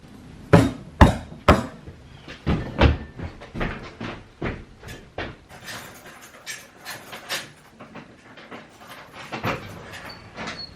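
Knocking at the front door of a secret headquarters: a run of sharp, loud raps in irregular bursts, near and distinct, followed by softer, scattered thumps and shuffling.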